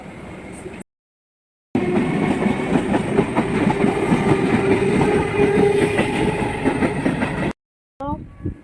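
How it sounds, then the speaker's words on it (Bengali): A nearly empty open train running along the track, a loud continuous rumble with rhythmic rail clatter up close, cut off briefly at both ends. "খোলা ট্রেন একদম ফাঁকা"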